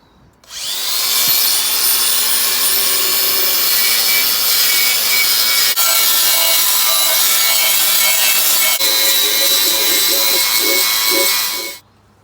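Light power sanding on an original Ford subframe in a car interior, a loud continuous abrasive rasp that runs for about eleven seconds close by, with slight changes in pitch partway through.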